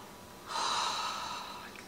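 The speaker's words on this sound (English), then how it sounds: "we're going to do the sniff test" A single sharp nasal inhale, sniffing a freshly stirred peppermint and eucalyptus essential oil blend, close and brief, with no talking.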